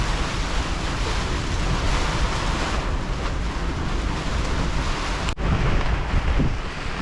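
Storm wind of about 35 knots buffets a boat on a mooring ball, a steady loud roar of gusting wind and surf hitting the microphone, with one brief sharp knock near the end.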